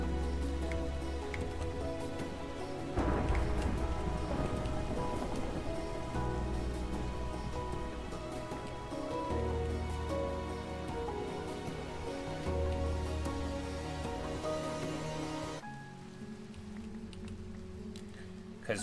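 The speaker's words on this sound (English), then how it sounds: "The wonderful sounds of explosive rain in Minecraft." Rain patters steadily in the video game Minecraft, a continuous hiss of drops under background music and tones that carry on throughout before thinning out near the end.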